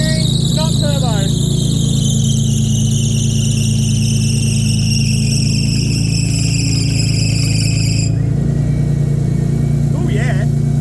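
A Nissan Pulsar engine gives off a loud, steady high-pitched power steering squeal over a constant engine drone, running for about eight seconds before dropping away, with a brief chirp near the end.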